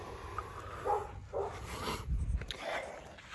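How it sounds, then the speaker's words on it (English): Dogs, including a young Rottweiler, bark and whine from inside a building, with short yips and whimpers scattered over a few seconds, moderately loud. "Them dog's so mad that I ain't inside with them."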